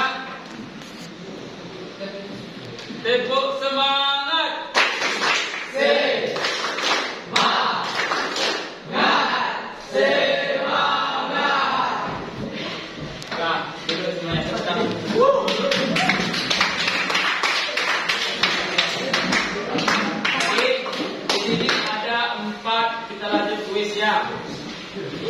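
Fifth-grade pupils in a madrasah classroom chant a rhythmic clapping cheer together, sharp patterned claps and taps mixed with loud group voices that run throughout, close and lively.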